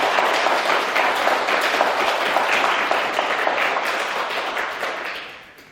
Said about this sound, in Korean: 힘찬 감사와 격려의 박수